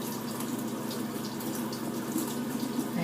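Water squeezed and dripping from a wet makeup brush during brush cleaning, a steady close trickling and splashing that runs continuously throughout.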